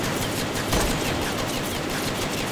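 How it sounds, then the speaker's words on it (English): Steady, dense gunfire in the shooter game Fursan al-Aqsa crackles at moderate level, shots blurring into a continuous rattling barrage with no voices over it. "I'm being shot at"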